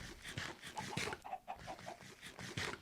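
Chickens in modded Minecraft cluck in a busy stream of quiet, rapid, overlapping clucks with no talking over them.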